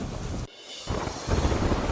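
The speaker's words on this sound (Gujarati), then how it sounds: "મધ્યપ્રદેશના છતરપુરમાં મુશળધાર વરસાદ વરસ્યો" Heavy rain and a storm in Chhatarpur, Madhya Pradesh, roar as a dense, loud wash that briefly drops away before returning, then swells again with gusty rumble.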